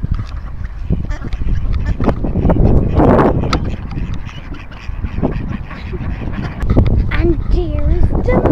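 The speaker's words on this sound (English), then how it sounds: "see the ducks, Buster." Ducks quacking by a canal, several loud nearby calls mixed with outdoor noise, with a person talking throughout.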